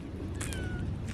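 A pet cat lets out a single short meow, close by and fairly quiet, over a soft background hiss.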